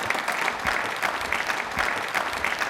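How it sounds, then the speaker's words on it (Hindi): Studio audience clapping on a televised quiz show, a steady dense round of applause that holds at an even level throughout, with no voices over it. "एक बार तालियां वापस से जोरदार होनी चाहिए सर"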